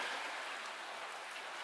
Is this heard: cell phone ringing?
no